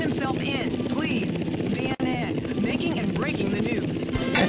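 A stolen military attack helicopter flies in GTA Vice City Stories, its rotor chopping in a fast, loud, continuous pulse with a brief dropout midway, while voices talk over it.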